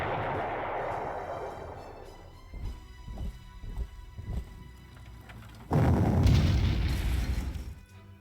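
Artillery fire in the strategy game Panzer Corps, heavy booming shots with rumbling decay, several distinct thuds in the middle followed by a louder sustained blast near the end, no voices.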